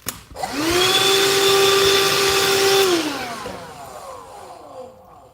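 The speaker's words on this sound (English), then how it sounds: "let me vacuum this out real quick" A vacuum cleaner sucks metal shavings out of a cheap guitar: the motor whines up quickly, holds a steady loud tonal roar for about two seconds, then winds down slowly as it switches off, close by with no talking.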